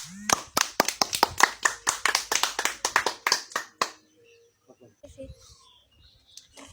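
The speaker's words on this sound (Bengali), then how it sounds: "সবাই একটা হাততালি দেন" An audience breaks into brisk applause, a dense burst of many hands clapping together for about four seconds before it fades into quieter room sounds and a faint voice.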